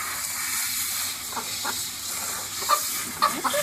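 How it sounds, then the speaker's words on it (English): A handheld water sprayer hisses steadily and close by while a silkie chicken is bathed, with a few faint splashes and small knocks near the end. "So then I get my sprayer. Make sure it's the right temp. And we go to spraying."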